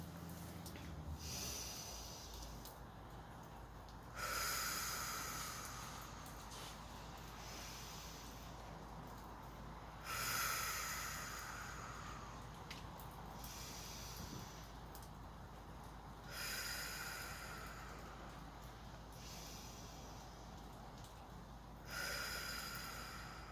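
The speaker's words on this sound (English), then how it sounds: "So I always like to do the high five breathing." Slow, deep calming breaths during a five-count breathing exercise: four long, hissing inhale-exhale cycles spaced several seconds apart, close and clear with quiet pauses between.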